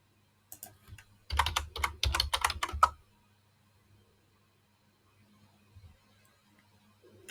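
Keys clack on a computer keyboard in a quick burst of typing for about two seconds, followed by a couple of faint clicks and near silence.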